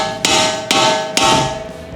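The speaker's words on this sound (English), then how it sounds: "I'm gonna hit that with a hammer right there." A hammer strikes a part on a Dodge Challenger R/T three times at an even pace, each blow loud, sharp and metallic, ringing briefly before the next.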